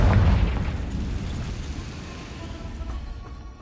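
Confringo spell explosion in the video game Hogwarts Legacy, a loud booming burst at the start that fades into a rumbling, crackling tail.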